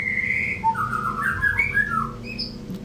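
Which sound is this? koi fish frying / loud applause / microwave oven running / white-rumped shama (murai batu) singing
white-rumped shama (murai batu) singing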